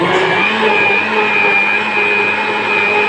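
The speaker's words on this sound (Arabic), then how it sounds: "انا هريح الخلاط طبعا وهفصل واضرب تاني" An electric mixer whirs continuously at high speed beating yogurt, a loud, steady motor hum with a bright whine, running alone without pause.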